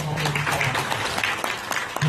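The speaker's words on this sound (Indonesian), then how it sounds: "Terima kasih, aplaus yang meriah sekali lagi" Audience applause at a Bawaslu Blitar City community outreach session, a dense continuous patter of hand claps across the whole stretch with a voice speaking over it.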